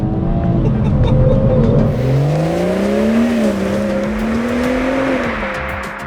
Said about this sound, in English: Today is my review of the BMW M240i.